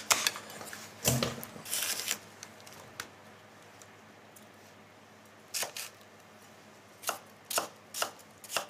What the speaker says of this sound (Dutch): En ondertussen kunnen we onze venkels snijden.